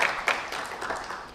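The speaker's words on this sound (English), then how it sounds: "Special round of applause." A light, thin patter of applause from a symposium audience on gut health, fairly distant and soft, with a few louder claps near the start and no talking.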